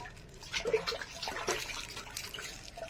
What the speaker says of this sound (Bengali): মাছগুলো এবার একটু ধুয়ে নেওয়া হচ্ছে।